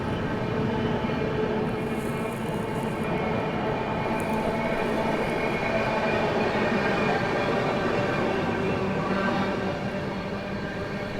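The 12329 West Bengal Sampark Kranti Express runs through Gomoh junction without stopping, heard as a loud, steady rolling rumble of wheels and carriages that holds throughout.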